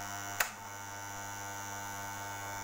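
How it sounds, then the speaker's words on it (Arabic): Electric floor fan motor running after a repair, a steady electrical hum with a single sharp click near the start, with no talking. "كده الموتور قام اهو"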